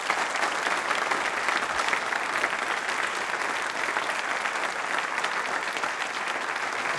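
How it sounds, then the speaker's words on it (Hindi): Steady, dense audience applause fills a quiz show hall at Mahatma Jyoti Rao Phule University, many hands clapping evenly and loudly with no pause from start to finish. "तालियां बजा सकते हैं इस पर"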